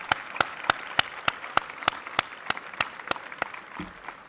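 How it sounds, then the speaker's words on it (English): Audience applause at an award ceremony at the Solar Decathlon India Finals 2024. It comes as sharp, evenly spaced claps in a steady unison rhythm, fairly close, fading near the end. "A big round of applause for Design Builder, please."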